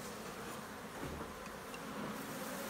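Honey bees buzzing around an open hive being split: a dense, steady hum of many bees, soft and continuous, with no voices.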